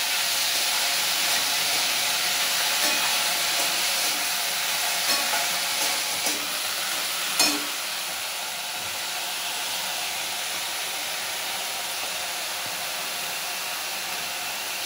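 Thorboti (flat beans) curry being stirred in a frying pan, giving a steady close hiss of sizzling with faint scraping and one brief clack partway through, no voices.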